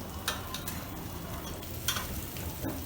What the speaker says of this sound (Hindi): इन सब चीज़ों को तब तक भूनना है जब तक मसाला तेल ना छोड़ दे। कड़छी लगातार चलानी है।